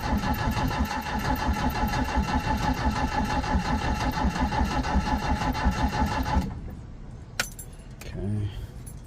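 A 1972 Toyota Corolla TE28 wagon engine cranks steadily on the starter for several seconds without catching, then stops. A few clicks and clunks follow in the quiet afterward.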